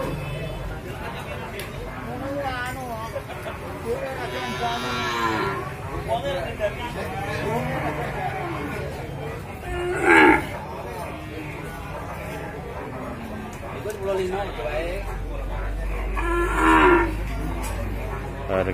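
Young Ongole (PO) bull calves low at a livestock market, two loud moos standing out above steady crowd chatter and murmured talk, with other cattle calls faint in the busy background.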